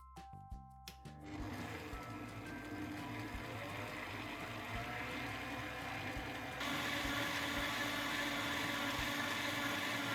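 Cake mixture with lemon juice and grated rind is mixed with a steady whirring motor that runs continuously and grows slightly louder partway through, with no talking.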